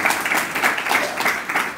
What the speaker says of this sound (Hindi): इस पर ताली बजा सकते हो आप।